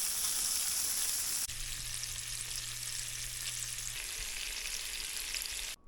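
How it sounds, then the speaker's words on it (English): Pork fat rendering down in a hot pan, a soft, continuous hissing sizzle with a low hum underneath partway through, steady and fairly quiet up close. "we get our pork fat on there rendering down right now"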